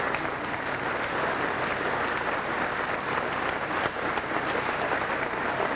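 Crowd at a 2001 Reading Athletic Hall of Fame introduction event giving event volunteers a sustained, even round of applause that fills the room at steady volume.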